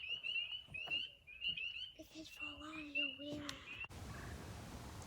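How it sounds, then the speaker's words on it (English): Spring peeper frogs call from a wetland in repeated high, sharp peeps, mixed with other bird and frog calls nearby and a faint voice, before a burst of wind noise at the end. "You can hear the spring peepers."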